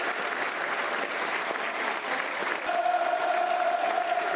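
Sustained applause from a football crowd at the Den during Millwall v Norwich City, a steady dense wash of clapping throughout, with a faint whistle-like tone entering near the end.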